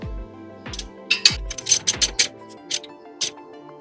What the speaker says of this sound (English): we can tighten the camber bolts further before bringing out the torque wrench